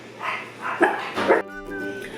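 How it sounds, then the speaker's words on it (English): A small dog yips and whines close by, a few sharp yelps giving way to a thin, wavering whimper, with some soft background noise. "my 5-year-old dog, Delilah, right here"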